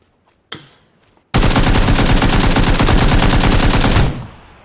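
In PlayerUnknown's Battlegrounds, a single shot rings out, then a loud, rapid sustained burst of automatic gunfire lasts nearly three seconds before abruptly stopping.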